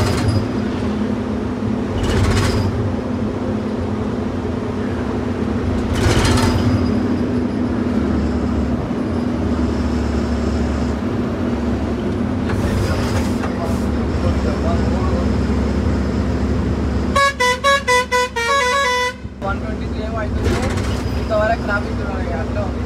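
Road traffic heard from inside a lorry hauling a soya load in the rain: a constant rumbling drone, a burst of repeated horn honks near the end, and voices talking over it.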